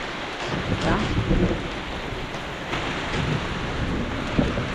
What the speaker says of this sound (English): I've realized that these timbers are being rained on, and that is not a good sign.